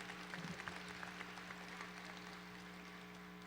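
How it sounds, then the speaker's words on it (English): Faint, distant applause from a crowd at a high school National Signing Day event for student athletes, brief and soft over a steady electrical hum, tapering off after the first second or two. "let's have another round of applause for our student athletes from Garland High School"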